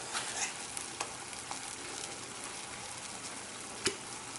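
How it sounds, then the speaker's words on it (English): Mushrooms sizzle and fry steadily in a pan as a plant-based dish of potato-cabbage balls with steamed vegetables is cooked, a constant close crackle with a few soft stirring knocks and one sharper tap near the end, without talk. "the mushrooms are cooking away"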